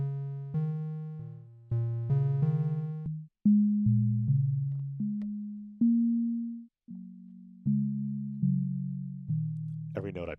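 A polyphonic synthesizer plays a slow sequence of pure sine-wave notes, each sustained and then fading, stepping up and down in pitch, ending with a brief click.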